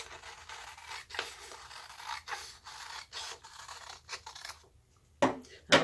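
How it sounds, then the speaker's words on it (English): Scissors cut across a strip of printed paper, giving a run of short, close snips and rustles at a steady rhythm with a brief pause before two sharper cuts at the end. "I'm then going to cut across and cut that strip off completely"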